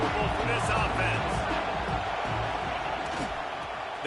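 Crowd noise fills a stadium at a Texas vs. Texas A&M college football game, a dense continuous roar under a commentator's voice.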